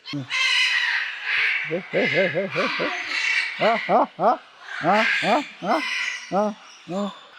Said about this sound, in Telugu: ఎంత కిలకిల రావాలి చూడండి మనకు